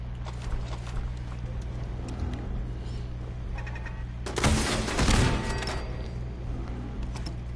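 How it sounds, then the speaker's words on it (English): A missile launcher fires indoors in the video game Fallout 4, a loud roaring blast bursting out midway over a steady low background hum, with smaller clicks and thuds before it. "Who launches missiles indoors?"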